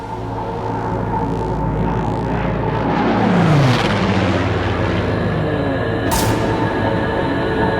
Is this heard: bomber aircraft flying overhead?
yes